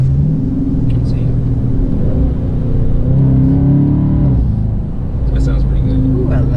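A 2019 Dodge Charger R/T engine, a deep rumbling idle that swells into a rev, then drops back to a low steady burble, close and loud, with talk over it.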